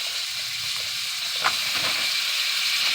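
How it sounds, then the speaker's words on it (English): Frozen shrimp spitting in a hot pan, a steady close hiss of sizzling with a few small pops and splatters standing out against the constant frying noise. "These are frozen, so it's going to splatter a little bit."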